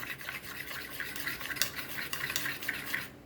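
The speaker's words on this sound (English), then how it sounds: "See that you mix this all very nicely." Goan prawn curry masala paste being stirred in a pan, heard as steady close scraping and swishing with small clinks throughout, with no talking.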